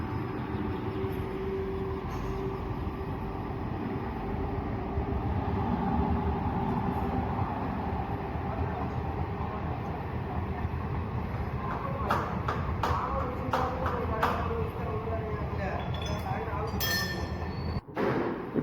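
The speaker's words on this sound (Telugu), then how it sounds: "ఇప్పుడు ఒక ట్రైన్ రాబోతుంది," A train passing by near a scooter service spot, a continuous heavy low rumble that builds and holds for many seconds, with rattling clanks toward the end and speech in the background.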